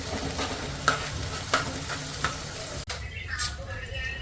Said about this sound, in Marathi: आता हे चांगलं परतून घेते कांदा टोमॅटो जोपर्यंत चांगला नरम नाही होत तोपर्यंत छान परतून घेते मी